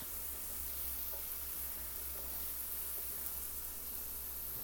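Brown rice fries in a pan, giving off a steady, even sizzle with a soft hiss that holds unchanged and carries no voices over it.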